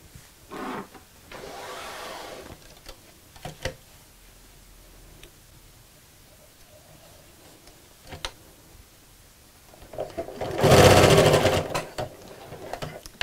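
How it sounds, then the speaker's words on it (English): A sewing machine whirs in a short loud burst near the end, stitching close to the edge of a picnic blanket, preceded by quiet handling clicks and taps of fabric and pins. "just sew it on the sewing machine so I can take the pin out"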